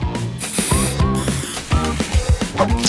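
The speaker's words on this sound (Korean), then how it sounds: "틀에 밀크 초콜릿을 바르고 빨리 굳도록 스프레이를 뿌려줘야 해" An aerosol can of cooling spray is sprayed onto milk chocolate spread in a cake mold in two short hissing bursts. Clicking, mechanical noises and tonal background sound fill the rest of the time.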